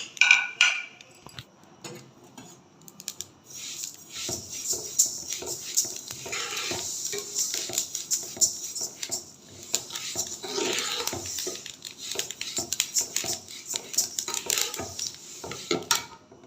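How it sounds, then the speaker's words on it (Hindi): Ingredients being stirred and roasted in a pan while making pinni, with steady scraping and clattering of a spoon against the pan over a soft sizzle, close and continuous with no talk. "तो चले हम इसको भी भून लेते हैं।"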